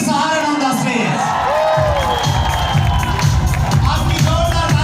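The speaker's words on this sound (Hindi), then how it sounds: "आपकी जोरदार तालियों के बीच" A crowd at a network marketing event cheering and whooping for a speaker taking the stage, a dense, loud, continuous roar of voices with rhythmic chanting pulses and no quiet gaps.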